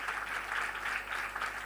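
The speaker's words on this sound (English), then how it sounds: "A round of applause for this accreditation." Applause from an audience at a college foundation day celebration honoring an accreditation announcement, a steady, moderately distant wash of clapping with no voices.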